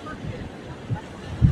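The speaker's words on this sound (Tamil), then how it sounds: "நல்லா காற்று அடிக்குது, நல்லா காற்று, நல்லா இருக்கு." Wind blows steadily across Candolim Beach in North Goa, a constant rushing noise with gusts buffeting the microphone and surf mixed in, under someone talking.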